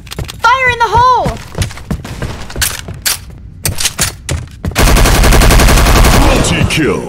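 Gunfire in Counter Strike Online 2 on the office map against bots, loud close single shots and thuds followed by sustained automatic bursts, with game announcer voice callouts over it.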